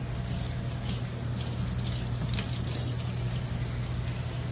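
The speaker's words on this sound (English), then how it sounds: "Wash my hands real quick." Steady running water from a kitchen tap splashing over hands during washing, continuous and fairly loud over a low background hum, with no talking.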